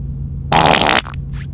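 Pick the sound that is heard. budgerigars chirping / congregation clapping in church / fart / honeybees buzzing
fart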